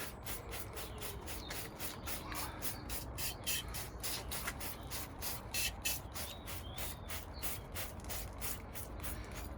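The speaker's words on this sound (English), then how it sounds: "right into the paintwork, spray it on, then leave it for 20 minutes" SDoc100 motorcycle cleaner is sprayed onto motorcycle paintwork in repeated quick bursts. The soft hiss comes with a steady rhythm under faint mechanical clicking, close by and fairly quiet, with no talking.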